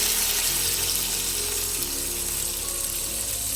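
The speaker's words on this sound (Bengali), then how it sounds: "এবার পানি দিয়ে দিচ্ছি।" Water pours steadily into a pot with a constant splashing hiss, loud and close, running without a break.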